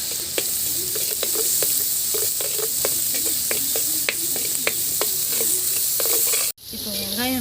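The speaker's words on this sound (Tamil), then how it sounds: "இப்போ வெங்காயம் நல்லா வதங்கிடுச்சு." Onions sautéing with turmeric in a hot pan give a loud, continuous sizzle, with regular sharp taps and scrapes of a spatula stirring them. The sound cuts off abruptly near the end and then resumes.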